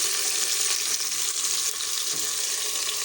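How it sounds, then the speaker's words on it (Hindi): Okra and onion fry together in a pan with a steady, dense sizzle that holds at an even level throughout, close up, with no talking. "अभी पहले भिंडी फ्राई करती हूँ, इसी के साथ थोड़ा सा"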